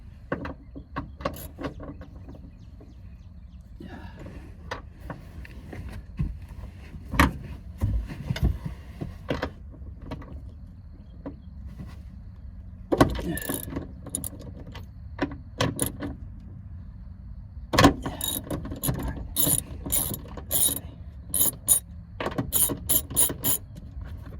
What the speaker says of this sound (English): To make this easier, I'm gonna use my long extension. So I've got a 3/4 socket on there.